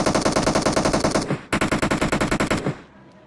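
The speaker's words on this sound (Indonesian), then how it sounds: "Ah, ditembak bot tuh, cepat." Rapid automatic gunfire from a bot in the mobile battle-royale game PUBG Mobile, two loud sustained bursts of evenly spaced shots separated by a brief gap, ending with a fading tail.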